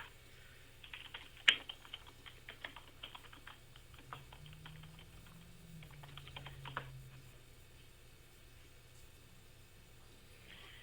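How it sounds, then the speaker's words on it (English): Fingers type a name on a computer keyboard in quick, faint runs of soft key clicks, with a sharper tap early on and a low background hum throughout. "I'm going to type in the person's name."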